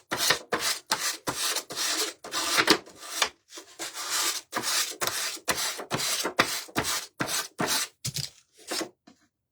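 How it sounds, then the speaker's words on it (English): Sandpaper rubbed by hand in a craft project with bows and lace, giving a steady run of rhythmic back-and-forth scratchy strokes, close up, no talk. "I think my sandpaper's getting dull."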